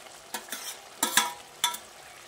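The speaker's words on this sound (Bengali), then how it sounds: "পেঁয়াজ আর ক্যাপসিকামটা দিয়ে ডিমের সঙ্গে ভালো করে নেড়ে চেড়ে মিশিয়ে নিচ্ছি।" Onion and capsicum stirred into egg gravy in a pan, giving several quick scraping stirs with a soft sizzle underneath, close and fairly loud.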